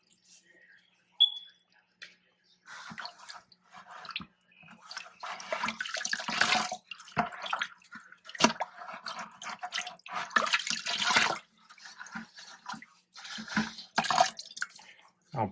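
Water splashing and trickling while canister filter media for a reef tank is rinsed, the brownish rinse water flowing in uneven, fairly close bursts, with a faint tone early and steady running water after about three seconds.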